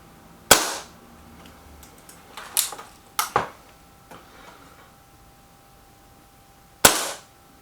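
A BSA Defiant air rifle with a fault fires several sharp, close cracks spaced seconds apart, with lighter mechanical clicks and ticks between them and no talking.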